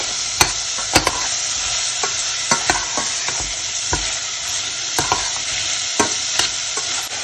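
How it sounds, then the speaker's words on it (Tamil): Onion, garlic and chillies fry in sesame oil with a steady close sizzle, punctuated by sharp clanks of a spoon stirring the pan about once a second; no voices. "வெங்காயம் உள்ள பூண்டு போடுறேன், சிக்கல் மிளகாய்."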